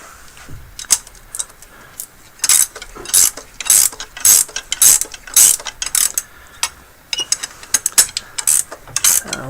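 A ratchet works on the cam gear bolts of a Talon engine, with bursts of rapid clicking and pauses between pulls; close and loud, no talking.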